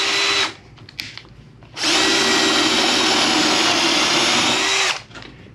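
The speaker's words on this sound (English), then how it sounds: "Now I'm just going to drill it." A power drill whirs briefly, pauses, then runs loud and steady for about three seconds as it bores a hole for an undermount drawer slide before winding down.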